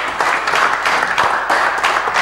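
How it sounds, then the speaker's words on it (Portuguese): Audience applause greeting Pedro Gomes as he is brought on stage, a dense, steady wash of clapping from a crowd, moderately loud and continuous throughout with no talk. "Para já, uma salva de palmas para ele."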